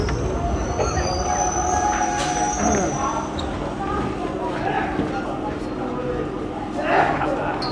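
A local train on the Sealdah-Bangaon line pulls out of Thakurnagar station with a steady rumble of wheels and carriages throughout, brief squeals and clanks rising over it, and voices murmuring in the background.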